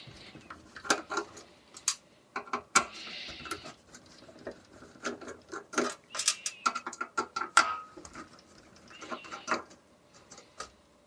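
Small screwdriver working T8 screws loose on an Xbox 360 board, giving a run of sharp, close clicks and scrapes with brief pauses, no talking.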